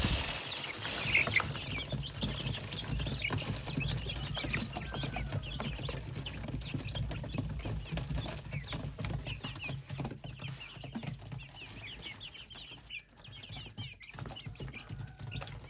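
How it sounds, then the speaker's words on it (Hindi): Chicks kept together in a store room cluck and peep continuously under a steady background hum, with soft scattered calls and no talking. "ये वाले चूजे भी यहीं पे रखे हुए हैं"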